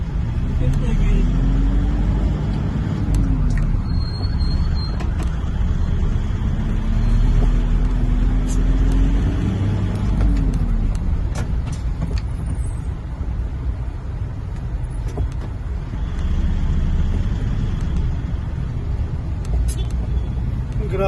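A car drives along a road in Bagong Silang, Caloocan North, its engine rumbling steadily with rising and falling revs and passing traffic around it, while people talk inside.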